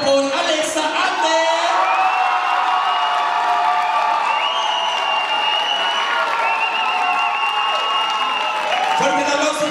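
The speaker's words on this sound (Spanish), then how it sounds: "Fuerte el aplauso, vuelvanse bolas con Alexa Ante" Loud audience applause with cheering and whoops at a drag competition semifinal, a dense continuous roar of clapping and shouting filling the whole stretch, with a host's voice and musical tones carrying over it.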